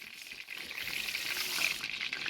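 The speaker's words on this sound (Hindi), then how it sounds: "इसको हम पहले अच्छे से धो लेंगे" Basmati rice being washed in water inside a large pot, a steady close trickling and sloshing of water with no talk.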